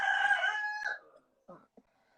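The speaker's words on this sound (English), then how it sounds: "could you just keep your chickens quiet, or a cock, or whatever that is?" A rooster crows loudly with a long sustained call, followed by a few short, fainter clucks or calls after a brief pause.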